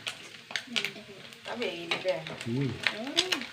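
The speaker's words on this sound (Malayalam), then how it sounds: "മീനൊക്കെ ഒന്ന് വറുത്ത് പോകട്ടെ" Fish fries in a pan, making a soft sizzle with occasional utensil scrapes and clinks, while a person talks over it throughout.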